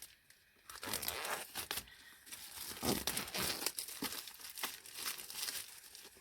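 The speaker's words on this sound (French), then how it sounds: "Hop, je vais le déballer si je peux devant vous." Plastic wrap crinkles and tears as a new colouring book is unwrapped up close, a quiet stretch of rustling and crackling with no one talking.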